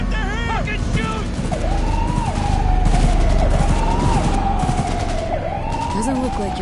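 Shootout in the Cyberpunk 2077 video game, bursts of rapid gunfire under a wailing police siren, loud and continuous, with characters shouting over the noise.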